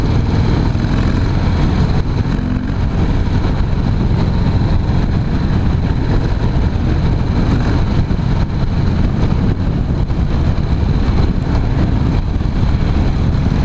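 A 2016 Harley-Davidson CVO Pro Street Breakout motorcycle rumbles steadily at low revs while riding in a high gear, a constant deep engine drone mixed with wind buffeting and road noise, with no clear revving changes.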